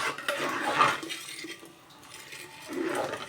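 Spoon scraping and clinking against a metal pot while soaked rice, moong dal and salt are stirred together for pongal, close-up irregular metallic knocks with a quiet gap in the middle.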